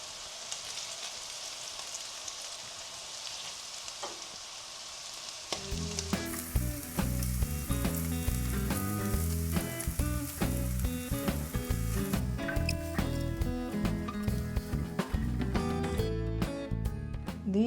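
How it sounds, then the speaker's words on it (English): Scallops sear in a frying pan with a close, crackling sizzle for several seconds before loud music comes in and largely covers it. "Get these right out of the pan."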